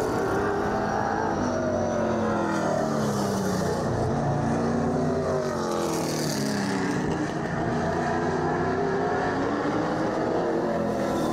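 A race car with motor and setup problems runs practice laps on a track during intermission, its engine droning loudly and steadily with shifting pitch as it circles, close and unbroken throughout.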